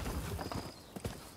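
Quick horse hoof clops on the ground in Rise of the Ronin, a samurai action video game, a short close patter of a few steps without talk.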